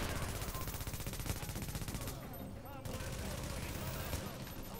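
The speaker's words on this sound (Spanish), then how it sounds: "Está muy alto el audio de los disparos." Rapid bursts of automatic gunfire from a firefight in The Division, loud and dense with overlapping shots, briefly thinning midway before resuming at full intensity.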